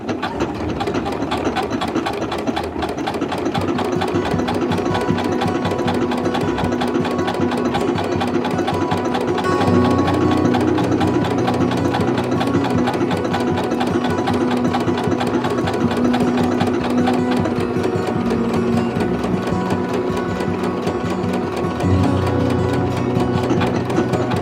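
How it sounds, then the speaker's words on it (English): A domestic sewing machine stitches a buttonhole with a buttonhole foot, its steady rapid mechanical whir running loud and continuous throughout, with a slight shift in pitch partway through. "I've got my buttonhole foot like right in the middle of the where I want the buttonhole"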